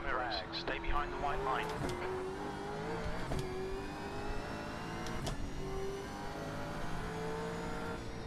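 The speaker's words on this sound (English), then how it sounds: "There's a car approaching." A V8 Supercar engine in iRacing whines and revs steadily as another race car closes in from behind, a continuous drone with shifting pitch beneath someone talking.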